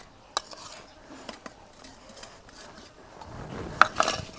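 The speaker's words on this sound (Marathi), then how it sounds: "तर चला आपण घासूया कुकर." A steel pressure cooker is scrubbed by hand with a paste of charcoal and oil, giving scattered scraping and sharp metallic clicks and taps, quiet at first and growing busier and louder toward the end.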